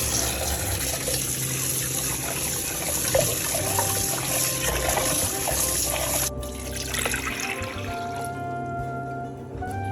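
Toor dal being rinsed in water, with steady trickling and sloshing of liquid over the lentils lasting throughout, loud and close, with no one talking.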